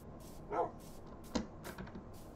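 Dogs in a video game bark in short yips, a couple of distinct barks at moderate volume over steady game background sound.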